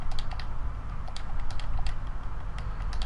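Rapid, irregular clicking of fingers typing on a computer keyboard, close and fairly crisp, with a steady low hum underneath and no voices.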